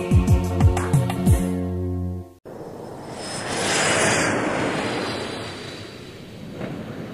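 An airplane engine effect plays inside a children's song, a sustained roaring drone that swells and fades after the music cuts out abruptly.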